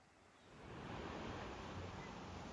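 Pacific Ocean surf at Sayulita beach in Nayarit, Mexico, a broad roar of waves that swells in the first second and then holds steady, with some wind noise and no voices.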